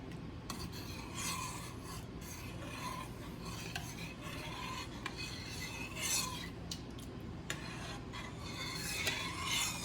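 A spoon scrapes and rubs steadily around a pot of thick chicken mole, with close, rhythmic rasping strokes and faint sizzling underneath, and no talking.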